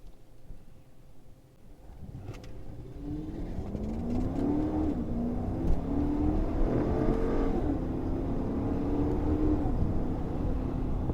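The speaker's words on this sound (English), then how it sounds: "now I put it into manual mode, and we're going to try out the paddles here for a little acceleration" A 2016 Dodge Charger R/T with a torque converter automatic accelerates in manual mode using paddle shifts. The engine note climbs steadily and then steps through a quick gear change, with a continuous road and wind rush underneath.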